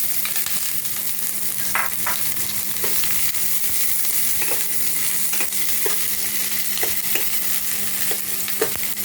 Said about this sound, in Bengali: তেল গরম হয়েছে পেঁয়াজগুলো আমি ছেড়ে দিলাম